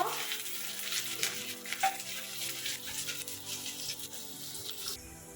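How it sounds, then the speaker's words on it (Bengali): Fifty grams of chopped onion frying lightly in hot white oil, giving a faint, steady sizzle with soft crackles that runs the whole time, alone and without voices. "তেলের মধ্যে এবার দিয়ে দেব পঞ্চাশ গ্রাম কুচানো পেঁয়াজ পেঁয়াজটা একটু হালকা ভেজে নেব"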